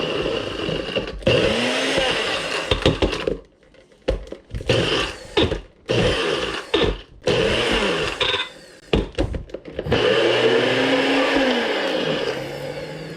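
A food processor on grinding mode chops pork rinds, whirring in loud bursts that stop and restart several times, with a brief gap of near quiet between pulses.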